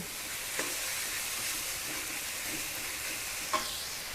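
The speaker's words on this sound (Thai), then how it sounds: "เวลาผัดหมึกอะ่ะ ไม่ต้องผัดนาน" Squid stir-fried over the highest heat in a wok, a continuous hissing sizzle with a few sharp spatula clinks, moderately loud and without any voices.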